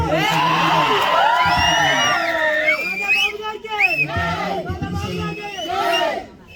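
A large crowd at a rally for the unveiling of Vangaveeti Mohana Ranga's statue roars with loud overlapping shouts, whoops and cheers, sustained at close range, then dropping away briefly at the end.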